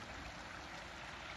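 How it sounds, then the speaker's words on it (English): Creek water rushing along a snowy trail, a steady broadband flow with no breaks, close and fairly loud throughout. "It's always relaxing to hear the creek water."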